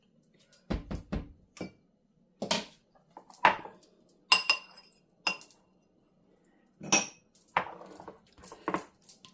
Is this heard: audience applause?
no